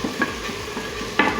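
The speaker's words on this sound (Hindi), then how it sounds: "इन सब चीज़ों को अच्छी तरह से मिक्स करेंगे" Chopped onion, tomatoes and green chilies are stirred in a pan over a low, steady sizzle, with a couple of soft spoon knocks against the pan in a brief, close moment.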